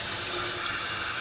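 Tap water runs steadily into a kitchen sink while cabbage is rinsed, a continuous broadband hiss at close range with no speech over it.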